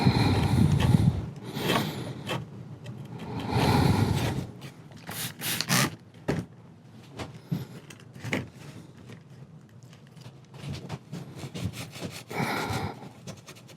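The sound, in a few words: scrubbing old chair clean with Crud Cutter cleaner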